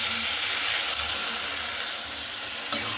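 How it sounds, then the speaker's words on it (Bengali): Water poured into a hot pan of fried spiced masala with potatoes and ridge gourd, making a steady loud sizzle and hiss that lasts the whole time with no talk. "তো এখানে আমি দিয়ে দিচ্ছি জল।"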